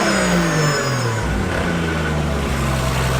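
A Nissan 240SX with an RB25 engine swap and an HKS blow-off valve revs loudly and steadily while stationary, with a rising and falling engine note that fills the whole stretch.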